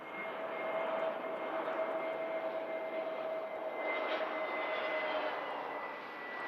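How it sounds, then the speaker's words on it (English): A KLM Airbus A321neo jet arriving at Manchester Airport, heard as a steady, fairly distant engine roar with a faint whine that swells slightly midway and holds throughout, with no talking. "KLM A321neo, for those who haven't seen it yet, arriving in from Amsterdam."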